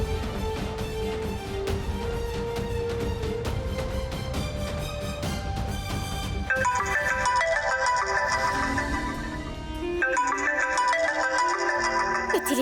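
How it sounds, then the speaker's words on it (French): A doctor's telephone rings with a melodic electronic ringtone, loud and unbroken for about thirteen seconds, its repeating tune shifting pitch partway through, heard in a French-dubbed drama series. "Le téléphone du docteur."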